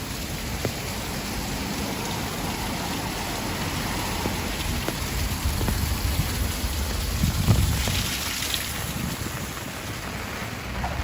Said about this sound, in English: A bit of rain about.